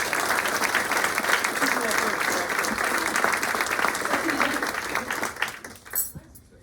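A high school auditorium crowd gives sustained, dense applause for distinguished alumni inductees and student ambassadors, loud and steady before tapering off at the end.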